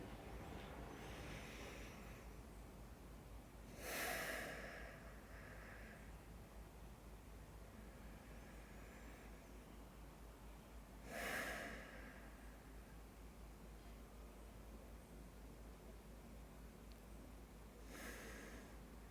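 Three slow, deep breaths in and out, soft and close, spaced about seven seconds apart over a faint, steady background hiss.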